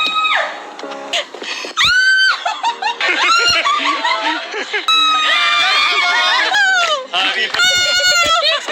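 A woman screams in loud, shrill, high-pitched bursts close by, repeated rapidly and mixed with squealing, laugh-like cries.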